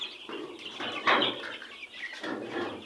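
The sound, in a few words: Noiler and broiler chickens in a poultry pen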